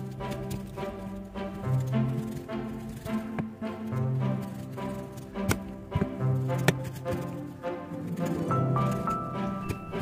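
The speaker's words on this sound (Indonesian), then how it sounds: "600 gram gula aren, ini disisir dulu supaya gampang mencairnya ya teman-teman." Hard palm sugar (gula aren) shaved and chopped into small pieces with a knife on a board, giving steady rhythmic chopping and tapping knocks that go on throughout, fairly close but soft.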